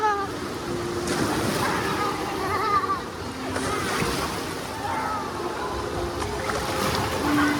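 Ocean surf breaking on a beach in Busan, a steady close wash of waves with wind noise and faint voices in the background.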